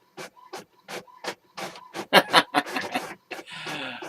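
A printer runs through a document, giving repeated rhythmic mechanical passes with whirring and paper-feed bursts that are loud and close, followed by a longer steady rush at the end.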